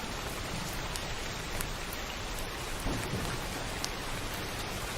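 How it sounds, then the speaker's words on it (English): Recorded rain falls heavily on a surface as a dense, steady patter of individual drops, with a low rumble of distant thunder underneath. "Listen to the uniqueness in each individual raindrop."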